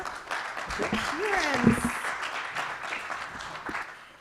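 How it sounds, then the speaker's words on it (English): Audience applause at a startup pitch showcase in London fills the room with dense, steady clapping, while a presenter speaks over it near the microphone. "Big round of applause for"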